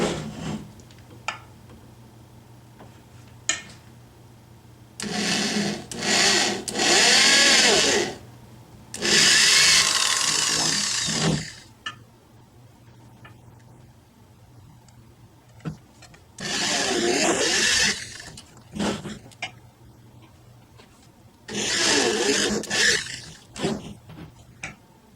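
A power drill bores holes in a bowling ball in several separate bursts, each a loud, whining grind lasting a few seconds, with quiet gaps between them and no talk.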